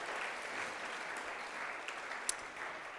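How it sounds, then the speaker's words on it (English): Audience applause at a charity gala ball, a steady wash of many hands clapping together for about three seconds, moderately loud and continuous, with one sharper clap standing out near the end. "let's give a round of applause for Mary and Charlie"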